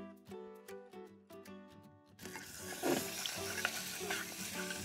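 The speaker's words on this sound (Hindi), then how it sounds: "इसमें हम डालेंगे थोड़ा सा गार्लिक पेस्ट।" Garlic paste sizzles in olive oil and butter in a pan, a loud, steady frying hiss that swells suddenly partway through, after a brief stretch of tonal background sound.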